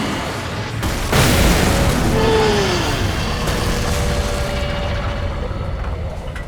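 In the video game Alan Wake, a thrown flashbang goes off with a loud, close, booming blast, followed by a ringing whine and a lingering rumble that slowly fades, with no talk.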